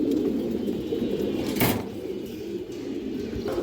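Several pigeons coo in low, continuous rolling calls close by, with a brief sharp rustle or knock partway through.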